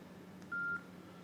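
A single short keypad beep from a mobile phone being unlocked, clear and isolated over quiet room hiss.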